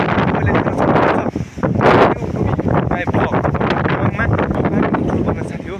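Strong, gusty wind roars steadily across the microphone outdoors in Nepal, with trees shaking and rustling loudly in the gusts; a voice speaks in places over the constant blustery noise.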